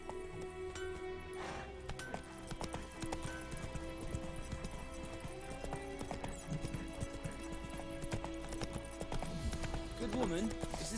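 Galloping horse hooves in The Witcher 3, a steady clip-clop rhythm running throughout beneath a dense game soundtrack, with a voice speaking briefly near the end.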